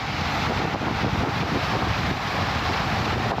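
Wind buffets a microphone outdoors near a mobile home, a steady loud rumbling roar that persists throughout with no voices heard.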